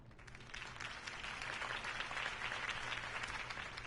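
A crowd in the Batman Telltale video game applauds a Harvey Dent campaign speech with dense, continuous clapping that sits fairly faint and even from start to finish.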